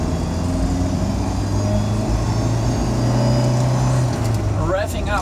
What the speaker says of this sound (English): Revving up, shifting, and yes, it's enough.